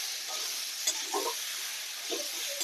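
Stems of vegetables, fried earlier, are sautéed again in a pan, giving a soft continuous sizzle with a few light spatula scrapes and taps, fairly quiet and with no voices.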